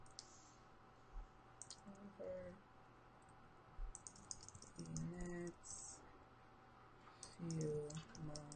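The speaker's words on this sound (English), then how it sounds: "And then I'll just type in everything here." Keys clicking on a computer keyboard in short bursts of typing, fairly quiet and close, with a steady low hum underneath and brief gaps between bursts; faint voice-like sounds appear in places.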